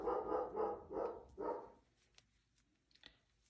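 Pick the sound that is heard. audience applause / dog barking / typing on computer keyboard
dog barking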